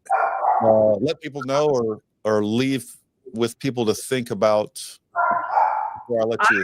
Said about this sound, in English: I'm so sorry for my dog barking now.